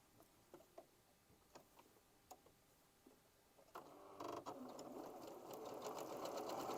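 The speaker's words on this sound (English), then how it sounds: "I'm going to bring it to the sewing machine and sew a 1/4 of an inch seam allowance" Scattered ticks and clicks, then a home sewing machine runs a quarter-inch seam through quilt fabric, a steady close, fast mechanical whir that grows slightly louder toward the end.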